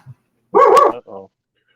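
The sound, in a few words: dog barking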